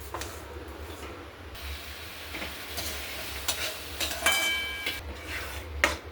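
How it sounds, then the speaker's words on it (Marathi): Chana dal and sugar puran filling is stirred as it cooks in a pot, making soft, intermittent scraping and clinking strokes over a steady low hum, with no voices. "व्यवस्थित मिक्स करून पुरण शिजवून घेणार आहोत"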